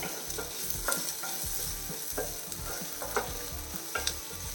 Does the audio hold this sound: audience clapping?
no